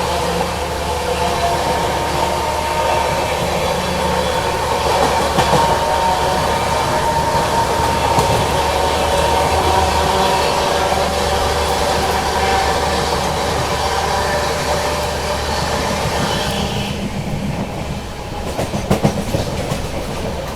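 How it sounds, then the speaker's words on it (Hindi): A Swarna Shatabdi express train overtakes the Shaan-e-Punjab train, heard as a loud continuous rumble and rhythmic clatter of wheels on rails that carries on steadily and eases off near the end. "अब फाइनली जाके शान पंजाब को ओवरटेक मार रही है शताब्दी।"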